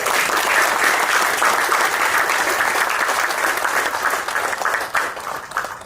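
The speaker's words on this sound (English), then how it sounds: "let us end this session with a huge round of applause for this whole session" A large audience gives sustained applause to close a session at a governance institute gathering, a loud, even roar of clapping that holds steady and then tapers slightly at the end.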